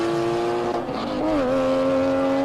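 A 23-year-old original Porsche GT3 race car at a hill climb, its engine note holding steady then dropping and rising again as it shifts, loud and close with a faint tire edge, no voices.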